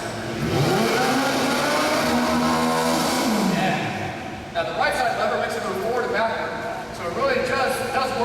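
A Disney ride vehicle's motor revs and accelerates under throttle control, a rising whine that builds loud and close for about four seconds, then settles into a steadier hum while someone talks over it.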